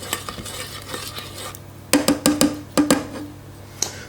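Chicken lo mein with green onions gets stirred inside a 4-quart Cooks Essentials pressure cooker, a spoon scraping and clanking against the metal pot in short bursts, with a soft sizzle underneath and no talking.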